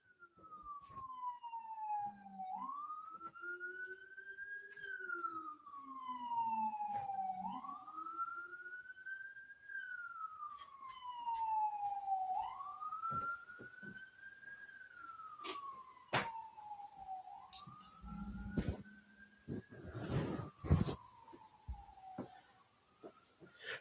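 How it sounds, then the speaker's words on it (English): An emergency siren passes outside a window, a wailing tone rising and falling in repeated slow sweeps, steady at a moderate distance before fading, with some clatter near the end and no talk. "there's a siren outside my window"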